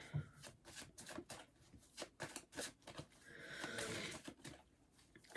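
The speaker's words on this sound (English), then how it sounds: "One more shuffle" Tarot cards being shuffled by hand during a card reading, heard as a quick run of short, crisp riffling bursts, then a longer soft shuffle, fairly quiet and close, with no talking.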